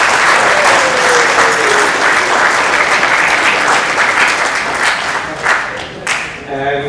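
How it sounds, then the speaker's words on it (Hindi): Loud, continuous applause from a hall of MBBS students celebrating cleared final exams, dense clapping that thins toward the end as a few voices break through. "सो इसके लिए मैं चाहूँगा एक बार आप लोग सब खुद अपने लिए ताली बजाएं"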